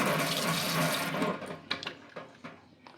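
Water gushes from a rotating tap attachment into a wash basin, a loud steady rush for about a second, then broken splashes and drips as the flow is moved and eases off.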